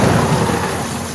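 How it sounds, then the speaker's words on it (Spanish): Very heavy rain pours down at night, a loud, dense, unbroken roar close by with no voices. "Se escucha fuertísimo la lluvia, pero muy fuerte."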